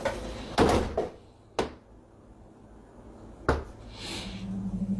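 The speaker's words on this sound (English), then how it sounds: "As soon as he closes the door." A door thuds shut nearby, followed by a couple of further knocks and bumps spaced a second or two apart in a quiet room.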